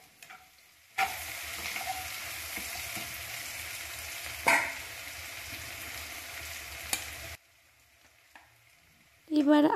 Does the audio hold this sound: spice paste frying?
yes